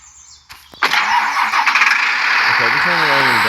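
Tractor engine in a farming simulator cranks and catches with a sharp squealing start, then settles into a steady mid-pitched running drone, with someone talking over it.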